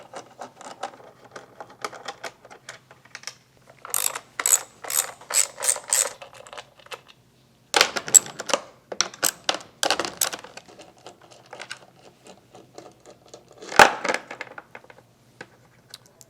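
A ratchet wrench clicks in rapid bursts while 10mm nuts and bolts are loosened from the fan cover of a Honda GXV530 twin-cylinder overhead cam engine, with several loud close runs of ratcheting separated by short pauses.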